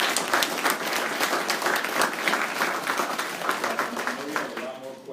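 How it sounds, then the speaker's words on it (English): Sustained applause from a crowd thanking a discussion panel, dense steady clapping throughout that thins slightly toward the end. "Can we give our panel a round of applause?"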